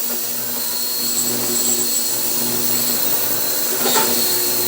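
An ultrasonic cleaner running on a workbench, used to clean crud off parts of an old G.E. motor, giving a steady, loud electrical hum with high-pitched tonal whine, continuous and unbroken.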